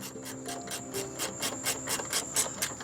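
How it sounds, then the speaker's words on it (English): Ratcheting as a Jeep fender bolt is snugged back down, a steady run of quick, evenly spaced clicks close by with light scraping and no talk. "So now we're going to tighten our fender bolt back down."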